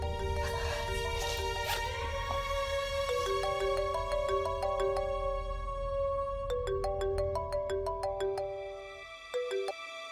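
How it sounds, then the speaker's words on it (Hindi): A phone ringtone plays a bright electronic melody of stepped tones over a low background hum, ringing on without pause and dipping briefly near the end. "किसका फोन?"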